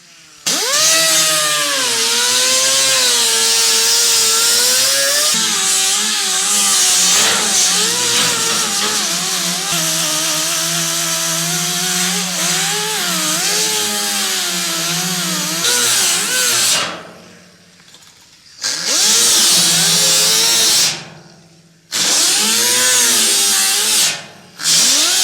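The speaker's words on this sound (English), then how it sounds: "I'm just going to lightly skim over this with my grinder and see what shows up" A 5-inch grinder lightly skims over a damaged wheel well repair, a loud, close, high-pitched whine that wavers in pitch as pressure shifts, cutting out briefly twice near the end before spinning back up.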